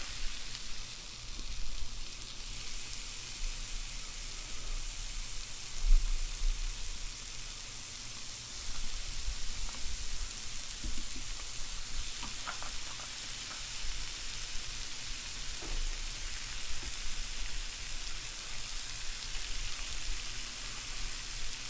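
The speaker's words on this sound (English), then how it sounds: "I'm going to let it get hot before I put the french fries in" Steady sizzle of french fries frying in the cooking game Chef Life, a soft continuous hiss that holds evenly throughout with a few faint clicks, no voices over it.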